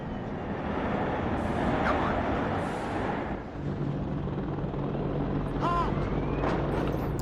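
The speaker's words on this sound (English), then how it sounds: "I'll bring in my air-to-air helicopter." An air-to-air attack helicopter in the WARNO real-time strategy video game gives a continuous whirring rotor roar with broadband battle noise, steady throughout, with faint brief chirps of game effects.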